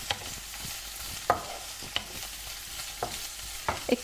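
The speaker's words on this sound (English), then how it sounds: "you can hear this just sizzling away beautifully" Sliced fennel sizzles and softens in a hot pan, a quiet steady frying hiss broken by a few sharp crackles and stirring clicks, with no talking.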